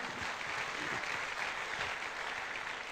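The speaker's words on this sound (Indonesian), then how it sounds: "Mohon aplaus untuk dokter ini dan dokter Haryono" A seminar audience in Indonesia applauding two doctors, a dense, steady wash of many hands clapping together at moderate loudness, sustained throughout with no voices rising above it.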